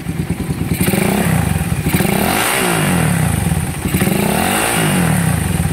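A motorcycle engine idles loudly and close up during a tuning check, its rough, steady chugging running throughout with uneven clattering pulses.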